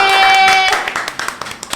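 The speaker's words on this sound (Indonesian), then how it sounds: "Tepuk tangan dong." A small group at a school podcast claps hands: a few sharp, close claps follow a brief musical tone.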